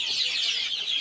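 Local chicken chicks on a small poultry setup make a steady, dense stream of high peeping and soft clucking at close range, with no voices.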